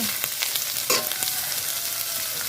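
Green chillies sauté in a hot pan for paneer fried rice, giving a steady, close sizzle with a few sharp crackles and light stirring. No one speaks.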